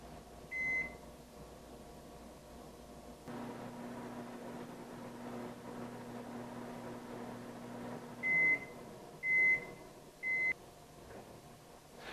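Microwave oven running on high while heating a bowl of water: a steady low hum and fan drone runs through the middle stretch, with short electronic beeps at the start and a few more beeps near the end.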